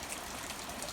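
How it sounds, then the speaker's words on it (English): Rain falls steadily in a rural pasture setting, a soft, even hiss of drops with no talking, fairly faint and continuous. "And it's raining again."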